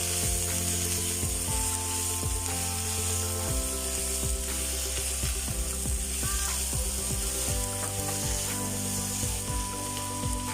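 Two grated garlic cloves hit a hot pan and sizzle steadily at close range, joined by repeated scraping and ticking utensil strokes, with a continuous hiss underneath and no voices.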